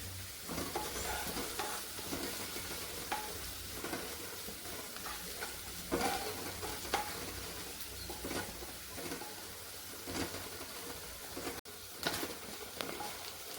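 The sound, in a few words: onions frying and being stirred in a pan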